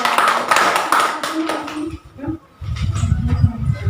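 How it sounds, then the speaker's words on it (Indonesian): Classroom applause for a student group after a microteaching presentation, a short burst of clapping that fades within two seconds, followed by a teacher's voice speaking. "Beri aplaus untuk kelompok"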